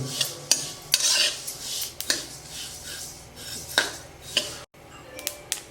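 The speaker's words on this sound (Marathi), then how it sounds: "आता आपण हे तीळ भाजून घेऊ आता याला आहे ना मध्यम गॅसवर चार पाच मिनिटं असे हलवीत हलवीत भाजून घेऊ" Sesame seeds being dry-roasted on medium heat in a kadhai, stirred with a metal spoon that scrapes and knocks against the pan in irregular strokes over a faint background hiss.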